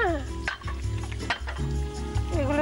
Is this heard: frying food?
yes